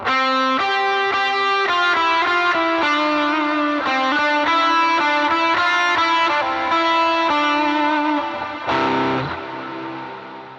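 Electric guitar through a worship pedalboard plays a distorted, chorus-tinged 1981-style lead tone, bright sustained notes in a steady melodic run, then a final chord that rings out and fades.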